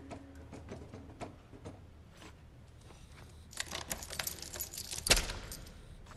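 Keys jangle and clink as a lock is worked in the video game Stray, first sparse metallic ticks, then a denser rattling burst with a sharp click near the end.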